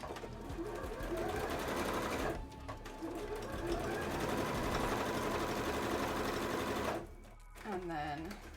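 A sewing machine stitches cosplay pieces with white thread for a Resident Evil 7 Molded costume, running in long steady bursts that pause briefly and end with a short stop near the close.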